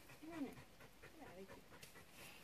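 A dog pants quickly and unevenly during an outdoor temperament test, the breathy huffs close to the microphone, with faint whimpering and background noise alongside.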